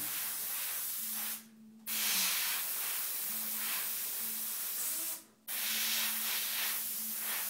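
Airbrush spraying paint over a template for a ripped-panel real-fire effect, in several long hissing bursts broken by two short pauses, close and continuous, with no talking.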